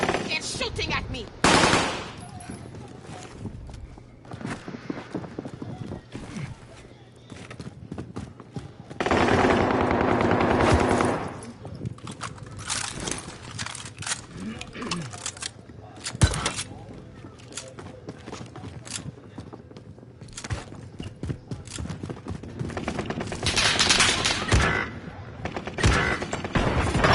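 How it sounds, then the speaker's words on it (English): Rapid automatic gunfire in the Call of Duty video game, with dense bursts of shots and mechanical clatter, loud and continuous throughout, and a player's voice talking over the game sound. "They're shooting at me."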